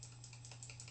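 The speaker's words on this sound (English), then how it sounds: "I don't know if you can hear my keyboard, but sometimes my keys get stuck" A computer keyboard whose keys sometimes stick gets pressed in a light, irregular run of clicks, very faint and close over a low steady hum, with no speech.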